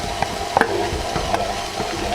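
Fish frying in a pan before potatoes are added, for Sri Lankan fish pasties, with a steady close sizzle and occasional scraping taps of stirring.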